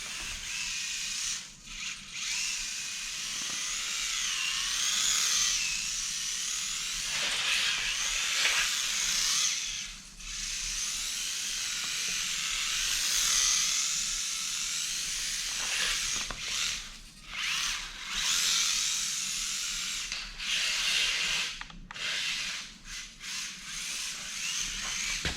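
A small micro-scale RC drift car fitted with a Hackslider gyro whines along with a high buzzing electric motor, rising and dropping in bursts as it accelerates and slides, close by with no talk.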